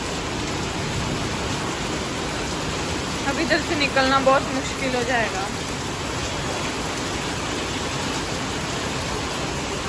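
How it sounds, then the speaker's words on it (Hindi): Heavy, sudden rain pouring steadily outside a bank as a dense, loud hiss, with someone speaking briefly over the downpour midway. "ओह माय गॉड, कितनी तेज़ बारिश हो रही है।"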